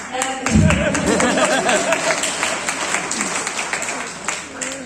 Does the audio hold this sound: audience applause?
yes